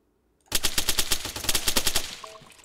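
Automatic gunfire in a video game: a sharp, loud rapid burst of about fifteen evenly spaced shots lasting roughly a second and a half, then a short ringing tail.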